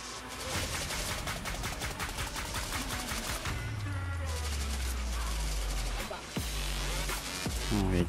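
Gunfire in the mobile shooter game Modern Combat 3: Fallen Nation crackles in dense, rapid automatic bursts, loud and continuous, mixed with game effects and a deep rumbling boom near the end.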